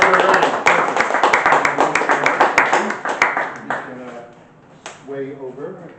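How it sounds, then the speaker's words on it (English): Applause from a Brooklyn Tea Party meeting audience for a guest speaker, a dense burst of hand clapping that fades over several seconds, with voices and talk rising as it dies down. "give a round of applause to our guest speaker, Gonzalo Duran."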